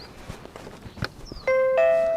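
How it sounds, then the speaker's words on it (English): An RV doorbell pressed at its button, a clear two-tone ding-dong chime ringing out close and loud after a few soft footsteps and handling sounds. "So I've actually got a doorbell on the RV right here."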